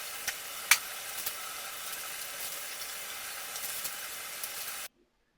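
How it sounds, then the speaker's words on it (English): Sand poured from bags into a huge 20-foot, 3,000-gallon aquarium, a steady close granular hiss with one sharp tap early on, cutting off abruptly near the end. "I'm just gonna put all these bags of sand in here"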